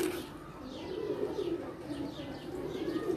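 Pigeons kept in pairs for breeding give continuous low, throaty cooing at close range, a steady rolling drone with faint chirps on top.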